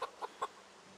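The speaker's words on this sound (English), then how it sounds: "If I pet this chicken." Chicken clucking as it is petted in the Project Zomboid survival game: three short, close clucks in quick succession, then quiet.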